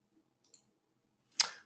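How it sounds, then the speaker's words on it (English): Computer mouse button clicked during archiving software work, a faint tick followed by a single sharper click near the end, otherwise quiet. "Let me try clicking the correct button this time."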